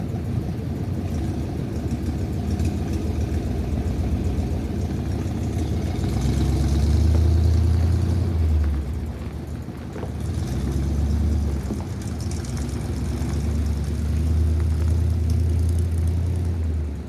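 A $1,000 dump truck's engine runs steadily on a test drive, a close, loud, low rumble that swells and eases as the revs change, with no talking over it.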